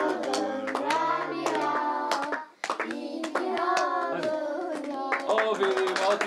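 Rhythmic hand clapping greets a child at a birthday surprise, sharp claps repeating steadily beneath voices and tuneful, sung-sounding speech from a small group nearby.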